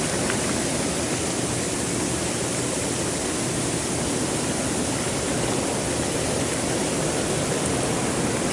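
Hot tub water bubbles and churns in a steady, dense rush of noise that stays even and close throughout, with no talk.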